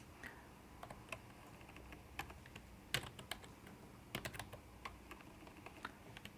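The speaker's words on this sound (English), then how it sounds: "Let's type that one." Fingers tap steadily on a computer keyboard, a quick run of light clicks with occasional louder keystrokes, heard alone without speech.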